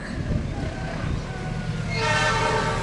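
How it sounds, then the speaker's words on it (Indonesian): Malabar passenger train from Bandung to Malang speeding west-to-east along track 2 through Cimekar station, a steady loud rumble of wheels and carriages with a brighter rail screech rising near the end. "kereta api Malabar relasi stasiun Bandung stasiun Malang sedang ngebut di jalur 2 dari arah barat melewati stasiun Cimekar"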